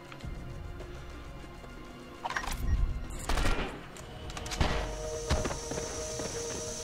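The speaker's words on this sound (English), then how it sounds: "I wish I could tell where the bullets are coming from" Bursts of gunfire in the game 24: The Game, with sharp shots and short automatic volleys at scattered intervals over a low ambient background, plus a few footstep-like thuds.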